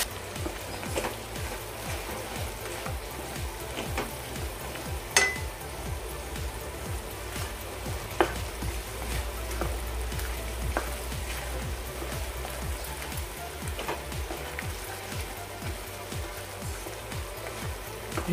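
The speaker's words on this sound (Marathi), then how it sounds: "थोडेसे फक्त आपण 1-2 मिनिटं परतूया." Ground spice paste sautéing in oil in a pan for a Khandeshi shev bhaji rassa, a soft continuous sizzle and crackle with occasional louder pops and stirring scrapes, steady and close, with no talking.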